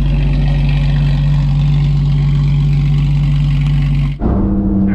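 A Porsche 996 engine runs steadily while driving, a loud continuous low drone with a sharp dip and shift near the end.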